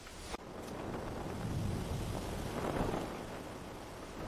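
Rain and gusty wind sound outside, a steady broadband hiss that swells and eases, with a sharp knock near the start and no speech.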